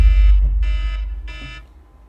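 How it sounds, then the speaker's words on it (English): Electronic alarm in the Bleach Rebirth game ringing in three bursts of a bright, harmonic buzzing tone, each about a third of a second long with short gaps between them, loud and close over a low rumble. "Dang, how long was that alarm on"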